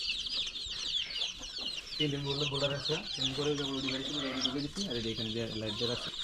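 Chickens cluck in repeated, drawn-out bursts near at hand, over a constant high-pitched chatter of birds or insects in the background.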